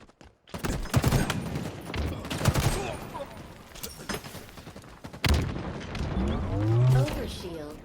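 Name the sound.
gunfire in a video game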